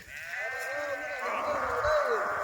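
A sheep bleats in long, wavering cries, close by and continuous, over a soft outdoor background.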